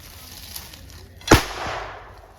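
A single firecracker bursts with a sharp, loud crack, its echo trailing off against quiet village night ambience during a new-moon puja, with no voices.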